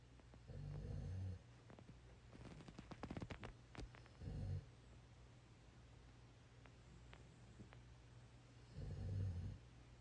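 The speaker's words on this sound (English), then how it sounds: "And that's a light snore." Light snoring from a sleeper in deep rest: three soft, breathy, low rumbling snores spaced several seconds apart, with a cluster of faint clicks and rustles in between against a quiet room hum.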